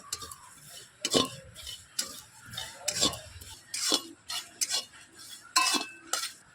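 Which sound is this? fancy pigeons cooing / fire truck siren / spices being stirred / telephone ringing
spices being stirred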